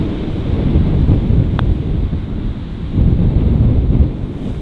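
Strong wind on a golf course roars and buffets the microphone steadily throughout, with gusts swelling and easing, loud and close with no other sounds.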